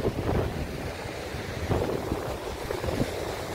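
Sea surf on the shore near the Dwarkadhish temple ghat in Dwarka, where a river meets the sea, heard as a steady low rushing wash with a few swelling surges and wind noise on the microphone, no voices.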